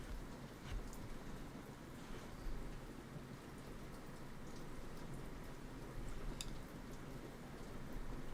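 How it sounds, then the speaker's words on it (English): Steady rain falls in a continuous soft hiss with scattered drop patter, faint and distant, with no voices. "Are you enjoying this rain, my lovely?"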